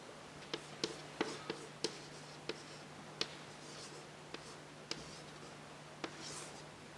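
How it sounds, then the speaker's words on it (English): Pen or chalk writing out physics equations by hand, a sparse series of sharp taps and scratches at irregular intervals over a steady low hum, fairly quiet and close. "And if I write it out,"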